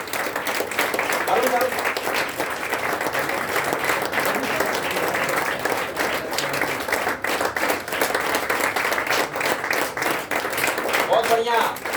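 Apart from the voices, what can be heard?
audience applause and clapping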